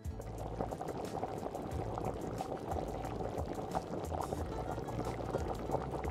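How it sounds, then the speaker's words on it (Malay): Chicken stock with peanuts simmering in a pot for soto ayam soup, a steady bubbling boil that holds at an even, close level throughout with no voices. "tuangkan stok ayam dan masukkan kacang tanah, biarkan ia merinis seketika"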